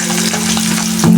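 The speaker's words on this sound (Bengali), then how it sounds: "শাকটা বাগার দেওয়ার জন্য শুকনো মরিচ দিলাম 2টা, রসুন কুচি," Dried red chillies and chopped garlic fry in hot oil to temper greens, giving a loud, steady sizzle throughout that swells a little louder near the end, with no talking.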